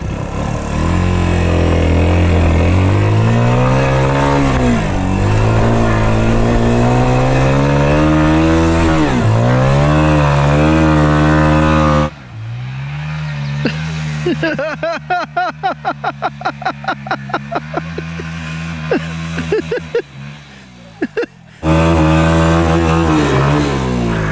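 A mini dirt bike engine is held against its first-gear rev limiter, buzzing at high pitch, then dropping into a rapid stuttering bounce off the limiter before roaring back up, loud and close throughout.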